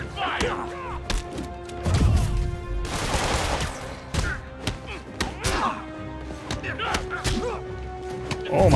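Enemy gunfire in Spider-Man on PS4 during a fight with armed criminals, repeated sharp shots and bursts with thuds and whooshes scattered throughout, loud and close, mixed with game voices.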